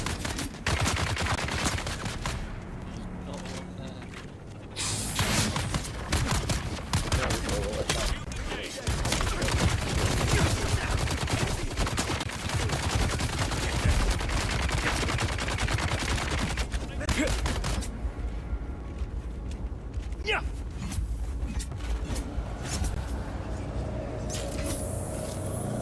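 Video game gunfire sounds in bursts and volleys throughout a combat sequence, loud and dense, with game voices and action sounds mixed in under a continuous noisy background.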